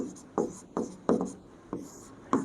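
A pen writing notes during a physics lesson scratches on paper in six quick, separate strokes, close and fairly faint, with short quiet gaps between them and no talking.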